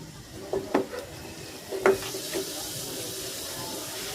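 Bottle gourd (upo) rings go into hot cooking oil in a pan, giving a soft, steady sizzle under a few sharp clinks and scrapes of a utensil against the pan, close and fairly quiet.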